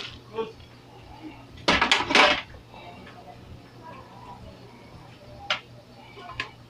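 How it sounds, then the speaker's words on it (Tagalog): String beans tipped into a cooking pot of Bisaya vegetable stew with coconut, a short burst of clattering and rustling against the pot, followed by a few light clinks, with someone talking. "Lalagay na natin ang sitaw."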